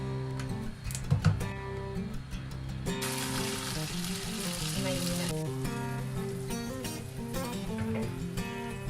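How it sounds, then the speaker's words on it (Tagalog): Meat and vegetable mixture sizzling on egg in a pan for a frittata, a steady frying hiss that swells louder partway through, with faint clinks and stirring over it. "Pour the meat and vegetable mixture on the egg. And cook in a pan."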